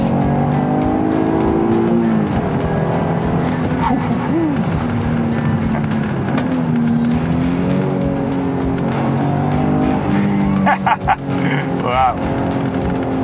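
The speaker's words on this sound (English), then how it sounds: "It's the 3-liter V6, 24 valves. It has the amazing Busso V6." An Alfa Romeo GTV's 3-liter 24-valve Busso V6 runs steadily close by, its engine note rising and falling with throttle. Someone talks over it throughout, and there are a few sharp clicks near the end.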